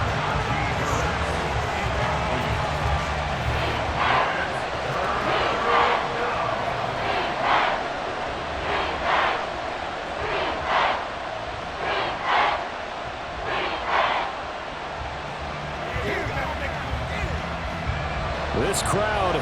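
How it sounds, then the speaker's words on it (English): Stadium crowd in Madden NFL 24, at a Steelers vs Falcons game, roaring in a steady, dense wall of noise for the whole stretch, with commentary voices breaking through over it. "This crowd turning up the decibel level."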